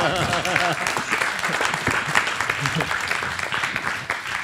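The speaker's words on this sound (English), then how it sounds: "we have to applaud this" Applause from an audience at a film lighting seminar on gaffers and lighting kits, a steady broadband patter of many hands running the whole time, with a voice talking over the first moments.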